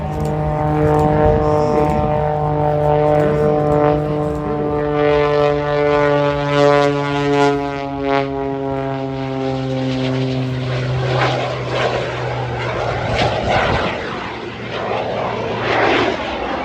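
A propeller aircraft engine drones loudly at an air show with a strong, steady harmonic hum that gradually shifts in pitch as the plane passes.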